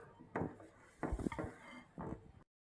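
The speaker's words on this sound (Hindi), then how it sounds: "अब मैं मिल्क को इस की मदद से, जो सा ना, इस चम्मच की मदद से मैं मिक्स कर लूँगा" A spoon clinks and scrapes against a bowl while milk is stirred for milky pistachio biscuits, three separate bursts of mixing with short pauses between them, close and fairly quiet.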